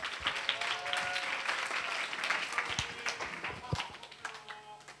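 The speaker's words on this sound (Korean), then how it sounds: "박수로 맞아 주시기 바랍니다" Audience applause welcoming student presenters of a two-stage rocket at a school academic festival, a brisk burst of clapping from a crowd lasting a few seconds, moderately loud with scattered sharp claps.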